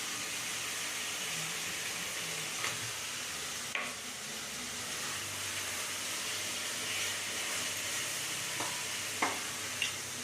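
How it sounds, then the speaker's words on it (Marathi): Vermicelli mixture with salt being stirred in a pan: a steady, soft sizzling hiss with occasional light scraping strokes of the spoon, close by and with no voices. "आपण आता मिक्स करून घेऊया. आपण याच्यामध्ये थोडंसं मीठ टाकून वाफूया आपण करून."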